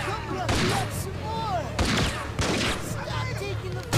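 Gunfire in The Warriors video game, a handful of sharp broadband bursts spread over a few seconds amid game noise, with people talking over the action.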